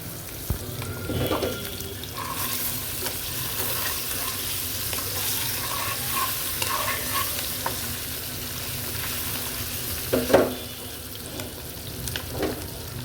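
Food sizzles in a pan as it is stirred, with a constant frying hiss, occasional scraping and clinks close by, and a few brief louder knocks, while a zucchini and egg curry is prepared.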